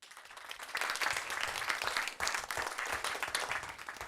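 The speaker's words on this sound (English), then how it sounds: "So we all feel better the more we applaud." Conference audience applauding a Scania public affairs manager, a dense sustained wash of many hands clapping with a brief dip midway, steady and fairly loud throughout.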